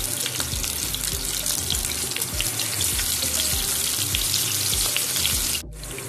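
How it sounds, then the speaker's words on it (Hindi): Chicken burger patties frying in oil in a grill pan over a medium-low flame, giving a loud, continuous crackling sizzle dense with small pops that dips abruptly near the end. "पैटी जो है वो फ्राई हो रहे हैं"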